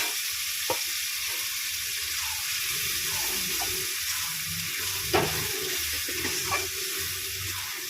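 Spices with turmeric and vegetables sauté in hot oil for a goat liver curry, giving a steady close sizzle with occasional scraping stirs and clinks against the pan.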